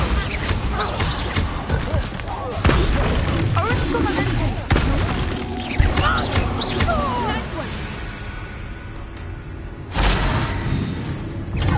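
Confringo and Bombarda spell blasts in the video game Hogwarts Legacy, several loud crashing explosions at irregular intervals over busy in-game combat noise, with a voice calling out between the hits.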